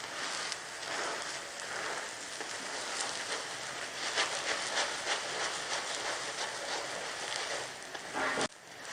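Steady, dense sizzle of a yogurt paratha frying in oil on a hot griddle, an even crackling hiss that holds throughout with a brief clatter near the end.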